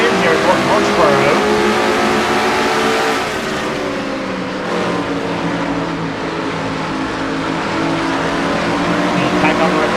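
Race car engines roar in a racing video game at North Wilkesboro, a loud continuous high-revving drone of several cars running together, with a commentator talking over it.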